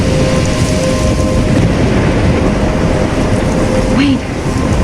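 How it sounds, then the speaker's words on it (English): A thunderstorm with heavy rain in the video game Life Is Strange, a loud dense wash of rain and low rumbling that fills the scene and continues without a break. "I'm trapped in a storm?"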